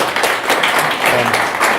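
A brief burst of dense, continuous audience applause fills a room at a Munich UX meetup as a speaker is welcomed, with some voices mixed in.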